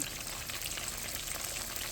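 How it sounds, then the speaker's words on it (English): Steady crackling sizzle of catfish fillets frying in hot oil, a dense continuous hiss with small pops, no voices. "These are really sizzling."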